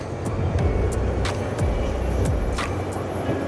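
Commercial truck on a CDL road test accelerating up a highway on-ramp to merge, a steady low engine drone and road rumble filling the cab throughout, with a few faint higher whooshes of passing traffic.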